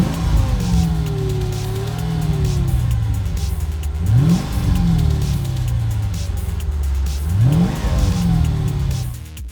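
A Mercedes convertible's V8 engine revs repeatedly, its pitch climbing sharply then falling back to idle in a rhythmic cycle, loud and close.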